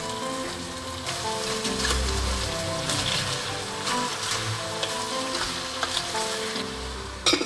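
Shredded cabbage sizzles and fries in a pot, giving a steady crackling hiss with occasional stirring scrapes and soft knocks, close and continuous throughout.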